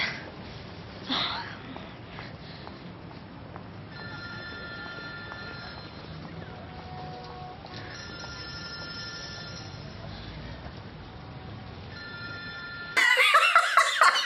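Movie scene with a cell phone ringing: a repeating electronic ringtone chirps in regular bursts over a muffled background with sniffs, then a louder, brighter burst of sound takes over at the end.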